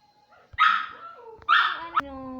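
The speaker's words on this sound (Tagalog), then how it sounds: "yung aso ko ay maingay" Two loud dog barks about a second apart, close by, with a little whimpering between them and faint voices in the background.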